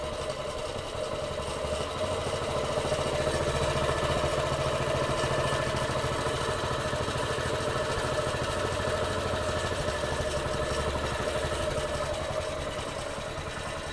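A Honda GX160 small engine runs with no load on a sugar-water and petrol fuel mix, giving a steady, continuous mid-pitched idle hum with even vibration throughout and no speech.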